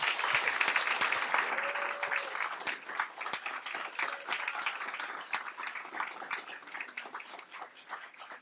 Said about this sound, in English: please give a big round of applause for our talented CSISD visual artists